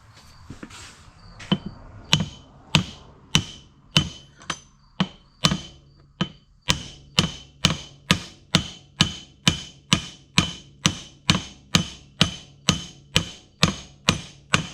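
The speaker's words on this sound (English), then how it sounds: "I probably just tap it together in the vise because they don't fit very tight" Repeated hammer taps on grain cart parts held in a vise during repair of a Parker 4500 grain cart, sharp metallic knocks at first irregular, then settling into a steady fast rhythm, close and loud.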